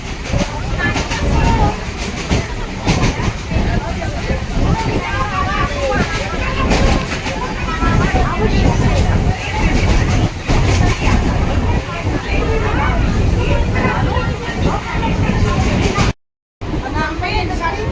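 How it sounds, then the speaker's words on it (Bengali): Inside a moving passenger train, a loud continuous rumble and rush of wind through the carriage with rhythmic rattling, a voice speaking over it, cut by a brief silence near the end. "শোনা যাচ্ছে না ট্রেনের হাওয়ায়।"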